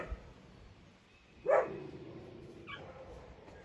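A single short dog whimper or yip from under a deck, muffled and somewhat distant, rising briefly out of quiet background noise.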